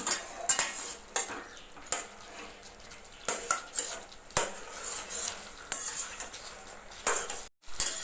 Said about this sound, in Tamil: இதை நல்லா அப்படியே ஒரு முறை மிக்ஸ் பண்ணிக்கலாம், பரட்டி விட்டுக்கலாம்.